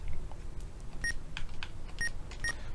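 Short electronic beeps from a phone call in The Portopia Serial Murder Case video game, several quick tones in an uneven sequence, fairly faint over a low background hum.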